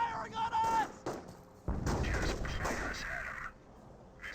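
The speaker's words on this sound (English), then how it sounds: "They're firing on us." Gunfire and artillery in the World War II strategy game Company of Heroes 1 go off in several sharp bursts, with heavy booming blasts in the latter half and faint radio-style unit voices mixed in.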